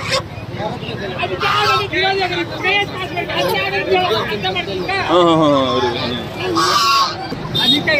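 Swans honk loudly and repeatedly, close by, over a noisy sheep and goat market in Chandapura, with people talking and chattering around the birds.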